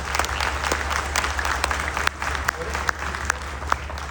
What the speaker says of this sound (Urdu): اگر آپ کو بریفنگ پسند آئی ہے تو تالیوں میں مجھے ضرور یاد۔